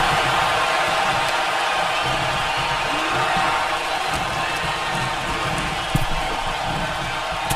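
Wrestling arena crowd cheering and roaring steadily throughout, a dense continuous wash of noise with a brief louder burst near the end.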